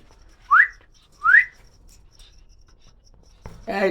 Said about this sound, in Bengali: ও অনেক সুন্দর শীষ দিতে পারে